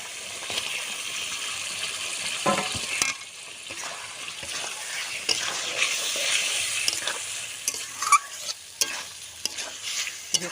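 Radish paneer pieces fry in a spiced paste with a steady sizzle, while a utensil scrapes and taps the pan in irregular stirring strokes, up close.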